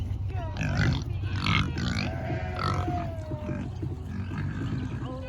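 Farm pigs grunt, snort and squeal excitedly while they wait for the feed wagon. The calls overlap and come in bursts, loud and close, as several animals crowd together over a low rumbling background.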